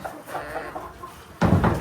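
Native chickens cluck in short, low bursts at close range, with a louder burst of flock noise near the end.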